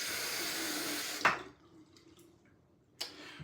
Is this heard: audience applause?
no